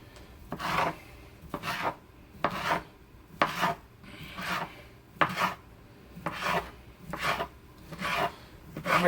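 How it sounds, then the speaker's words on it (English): A knife slices sausage into small bite-sized rings for blackened chicken and sausage jambalaya, making about nine evenly spaced rasping cuts at close range with no talking. "And I just cut them in little rings,"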